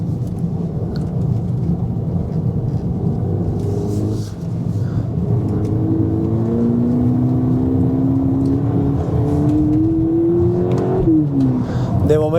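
A Volkswagen Polo GTI 25th Anniversary limited edition engine pulling loudly while driving, its drone rising steadily in pitch through a long acceleration, then dropping as the car shifts near the end.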